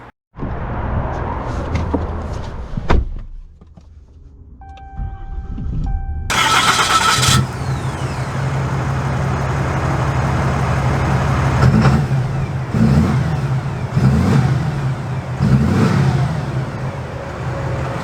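A 2022 Ram 2500 Night Edition pickup truck cranks and starts, then its engine idles and revs as it pulls away, rumbling steadily up close with rising and falling engine swells.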